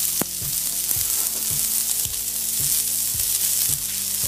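Norwegian saba fillet sizzles steadily in a hot pan as it is turned, a constant frying hiss punctuated by a regular series of soft knocks and scrapes from the utensil, close and loud.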